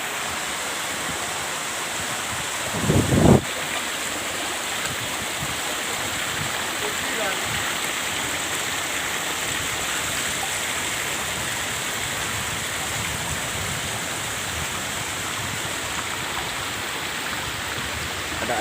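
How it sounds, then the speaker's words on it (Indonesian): Uriani waterfall in Wondiboy village pours in a constant, loud rushing roar that fills the whole stretch, with a brief knock near the start. "Ini kamu mau menuju ke"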